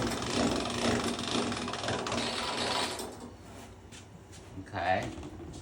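A hand-cranked pasta machine rolling pasta dough through its rollers, a steady mechanical ratcheting clatter for about three seconds with talk over it, then quieter handling noises and a brief voice.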